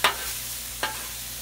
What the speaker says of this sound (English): Corn's getting cooked.